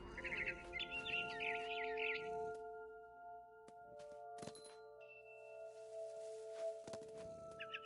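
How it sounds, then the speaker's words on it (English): Barn swallow chirping in the video game What Remains of Edith Finch, a brief burst of bright, close bird chirps at the start over a sustained musical backdrop, followed by scattered thuds and clicks. "Then I heard chirping outside my window. It was a barn swallow going back to her nest."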